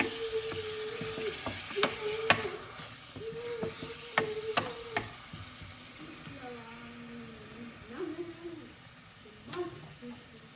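Food frying in a pan over lowered heat with a splash of water added to reduce, giving a steady sizzle broken by sharp clinks of a spoon stirring against the pan, with faint voice tones in places.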